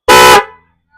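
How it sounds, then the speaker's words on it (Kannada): A black Wintone snail car horn, a 12V universal-fit unit, gives one short, very loud, bright blast that cuts off and rings away briefly, heard alone up close. "ವಿಂಟೋನ್ R snail horn black version,"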